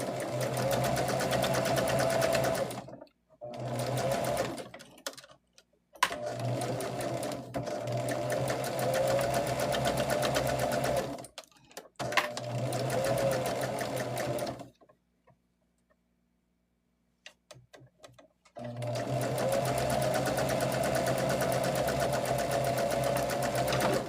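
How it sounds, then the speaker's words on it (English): A sewing machine stitches two rows of quilt pieces together in long, steady, loud whirring runs, stopping briefly between bursts with one longer pause, and no talking. "And then I'll take it to my machine and stitch those two rows together."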